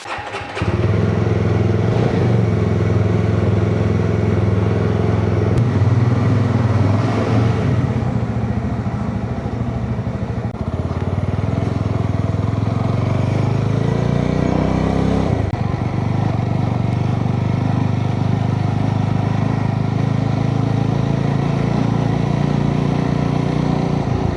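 A motorcycle rides on a rough road between Bangalore and Coorg, its engine droning loud and steady and close with shifts in pitch as it accelerates and changes gear, with no talk.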